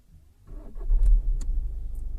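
A VW Passat engine cranks and catches, settling into a steady low idle close by, with a few faint clicks and no talking.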